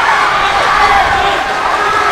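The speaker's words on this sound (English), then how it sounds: "Crowd is liking the action every time Bacolod is hitting." A crowd roars steadily at a live boxing match between April Jay Abne and Christian Bacolod at ARQ Sports Engkwentro 6, loud and sustained, with commentators talking over it.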